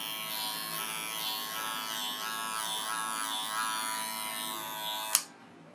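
Wahl Senior electric hair clipper buzzing steadily at close range in a barbershop, a loud continuous high whine that ends with a sharp click as it switches off.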